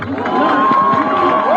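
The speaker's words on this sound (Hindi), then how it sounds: "तालियों से सोनम सर का स्वागत" A crowd at a Cockroach Janata Party protest rally in Hyderabad cheers and whoops loudly, welcoming Sonam sir with a steady roar of voices and shouts and no pauses.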